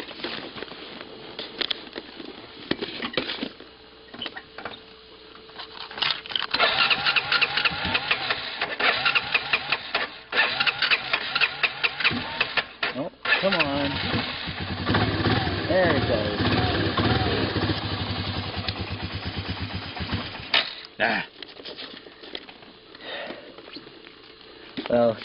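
A 1993 Honda Fourtrax ATV engine cranking, catching and idling roughly while cold, with uneven sputtering and revving near the microphone and occasional handling noises.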